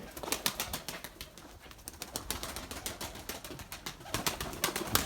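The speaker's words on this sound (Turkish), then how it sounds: "Bu kuşları 2-3 gündür açmıyoruz." Domestic pigeons shut in their loft, giving a steady, fairly quiet mix of cooing, fluttering wings and rapid clicking movement throughout, with nobody speaking.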